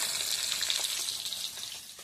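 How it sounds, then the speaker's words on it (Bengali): Fish fries in a pan, a bright, steady sizzle close by that softens slightly toward the end, with no talking over it. "এরকম মাছটা ভাজা হচ্ছে"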